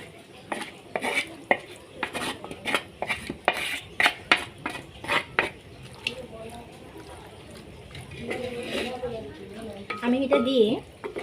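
Marinated chicken sizzling in hot oil while a utensil stirs it, a quick run of close metallic scrapes and clinks over a steady fry, with a voice talking briefly toward the end.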